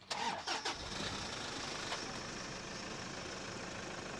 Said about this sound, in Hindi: एक बार ना स्टार्ट करके आपको इसके इंजन की आवाज भी सुना देती हूँ